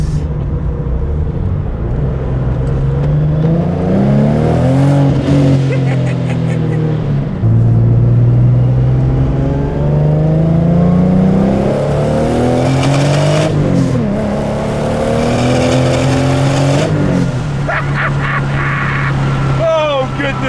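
A 1997 Toyota Supra MK4 engine pulls hard through the gears, each loud rising howl cut by a shift before climbing again, with a final downshift blip near the end; heard up close from inside the car.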